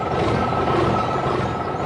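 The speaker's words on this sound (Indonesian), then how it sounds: "Truk merah besar sedang bekerja keras" A big red truck's engine rumbles steadily close by as it lifts dark soil, with a faint beeping over the heavy, continuous drone.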